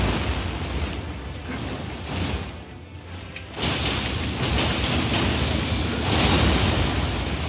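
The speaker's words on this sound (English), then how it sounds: "careful about the explosion effects" Explosion effects boom in the Elden Ring video game, a dense roaring wash of noise that swells louder partway through and stays sustained, with no talk over it.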